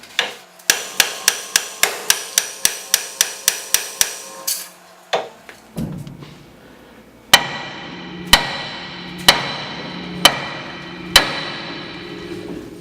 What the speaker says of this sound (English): we're going to hit the spindle where it's nice and big and heavy, and the spring pressure should pop the upper and lower loose for us